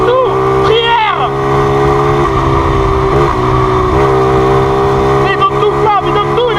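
An MBK 51 Magnum moped engine runs loud and near at full throttle in a continuous buzzing whine, its pitch sweeping up and down as it is revved hard.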